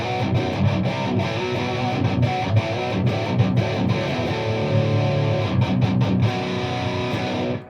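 Electric guitar through a Blackstar Amped 1 amp with a Tube Screamer pedal, EQ flat and controls at noon, 100-watt mode: a dense, continuous distorted tone with chugging rhythmic attacks throughout, loud and alone.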